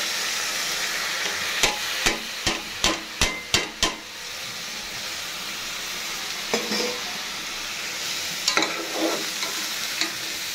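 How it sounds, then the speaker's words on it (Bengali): Rice for pulao being fried in a pan, a steady close sizzle broken by a quick run of sharp scraping stirs and knocks, then a few more scattered stirs later on. "চালটা খুব ভালোভাবে ভেজে নেব।"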